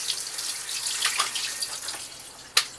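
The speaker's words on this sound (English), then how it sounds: "I just shock them with some cold water" Cold tap water runs and splashes over blanched green beans in a strainer, a steady hissing flow with scattered drips and a sharp clink near the end.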